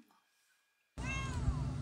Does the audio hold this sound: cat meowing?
yes